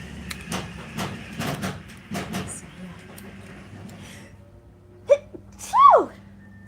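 A person sneezing in a casual chat setting: several sharp bursts early on, then a louder sneeze followed by a rising, gasping vocal sound near the end, close up and alone.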